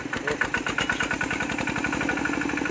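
A ride-on tractor converted from a walk-behind tractor runs in reverse gear, its small engine chugging with a fast, even mid-pitched beat close by, alone without talk.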